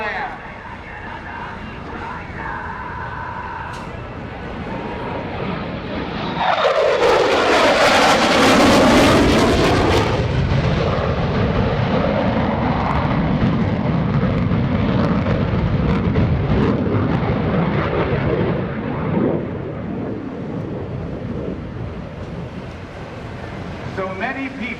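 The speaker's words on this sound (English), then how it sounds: "One more carrier break and coming into land" An F/A-18F Super Hornet carrier break and landing at an airshow: a loud jet roar swells in as it passes close, then settles into a long sustained rumble with wind noise, with an announcer talking over it.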